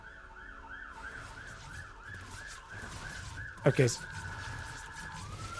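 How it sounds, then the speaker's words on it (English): Emergency vehicle sirens wail right outside a window, a repeating rising-and-falling tone that shifts into a steady held note. Bursts of clatter and a brief spoken word sit on top of it. "Sorry about the alarms, guys. The sirens. Sorry, it's right outside my window."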